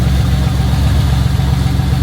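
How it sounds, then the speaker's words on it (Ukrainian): An old abandoned American muscle car engine idling without a muffler, a loud, steady, deep rumble with an even low pulse, close and unbroken, no speech over it. "Это без глушителя, Да? мотор так працює. Ровненько."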